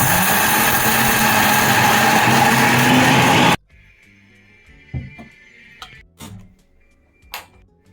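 A mixer grinder whirs loudly and steadily for a few seconds grinding a wet paste, then stops abruptly, leaving quiet with a few scattered clicks and taps.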